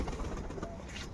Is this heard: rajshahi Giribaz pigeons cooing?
yes